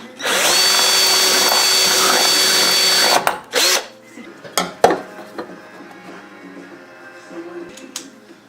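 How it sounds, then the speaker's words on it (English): A power drill drives screws to fix a bracket onto the top of a car's heater core, one loud sustained whir of about three seconds, then a few short bursts and clatters of handling. "I'm going to screw this right to the top of the heater core"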